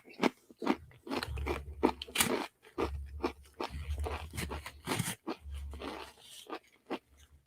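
Someone bites and chews a Paqui One Chip Challenge tortilla chip, producing loud, close, repeated crisp crunches in an uneven chewing rhythm, with no talk.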